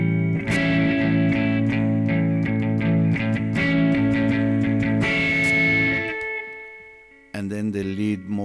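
Guitar played through a tube amplifier simulator in crunch mode gives mildly distorted, gritty strummed chords and picked notes for several seconds, then a brief pause before another distorted chord rings out.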